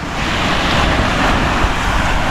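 Ocean waves wash onto the seashore in a broad, loud, continuous roar of surf, with wind buffeting the microphone throughout and no voices.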